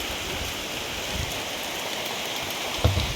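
Heavy cyclone rain pours down outside a house as a dense, even hiss of rain on surfaces, moderately loud and constant, with a brief knock near the end and no talking.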